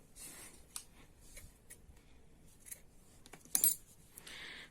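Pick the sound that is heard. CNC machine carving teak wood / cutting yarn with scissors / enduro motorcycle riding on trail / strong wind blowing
cutting yarn with scissors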